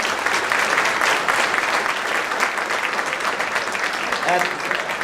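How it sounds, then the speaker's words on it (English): An audience at a Little Rock Touchdown Club luncheon claps for a standing Ouachita Baptist football coach, a full, steady wash of applause with indistinct voices mixed in. "let's give them a round of applause"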